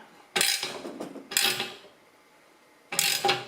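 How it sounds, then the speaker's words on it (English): Wrench snugging a compression fitting on an air suspension line of a 1976 Mazda RX-5 Cosmo: three short bursts of close metallic ratcheting and creaking separated by brief pauses, with no voices. "put the compression fitting back and give it a snug"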